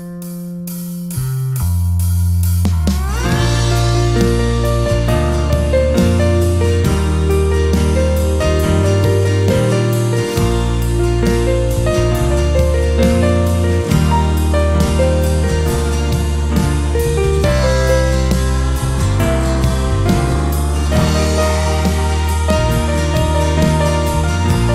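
Solo piano plays a chorus in an intermediate arrangement, a loud, full sustained melody over chords and a bass line, with no talk.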